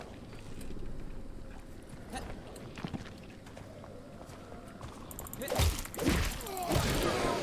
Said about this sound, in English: Hear a lot of footsteps upstairs.